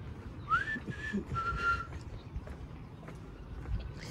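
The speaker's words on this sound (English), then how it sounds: "Whistling 3 times." A few short whistled notes sound early on, one sliding upward, over a low rumbling background, then fade out.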